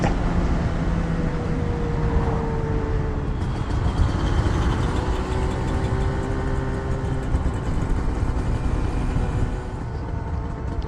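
Two-stroke motorcycle engines, a Yamaha RD250 and a Suzuki, rev steadily on a ride out, with a continuous loud engine drone and wind rush throughout and rising pitch sweeps as the throttle opens.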